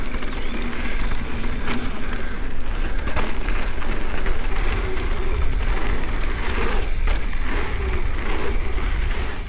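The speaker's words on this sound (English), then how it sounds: "let me stop talking for a minute so you guys can listen to the riding footage for yourself" Mountain bike rolling along a dirt trail, a steady loud rush of tire crunch and rattling over continuous muffled wind noise, with no talking.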